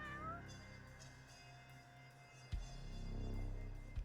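A cat meows in the video game Judgment, a few drawn-out meows standing out alone over a quiet game background, with a soft thump partway through.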